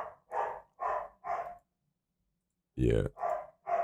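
A dog barks in a quick series of sharp, close barks, pauses, then barks several more times, with a brief spoken word among them.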